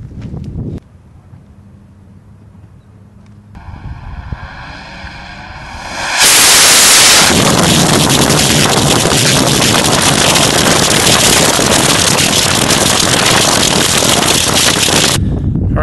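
An amateur hybrid rocket motor burning nitrous oxide with PVC fuel ignites with a rising tonal buzz, then erupts into a loud, sustained roaring blast that holds steady for about nine seconds before cutting off sharply.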